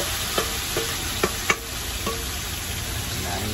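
Meat frying in a home pan at dinnertime, a steady broadband sizzle with several sharp utensil clinks and scrapes spaced through it as the food is stirred.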